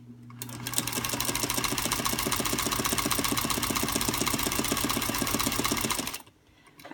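A sewing machine fitted with a ZigZagger attachment stitches a narrow zigzag, a fast loud steady mechanical clatter running for about six seconds before stopping abruptly.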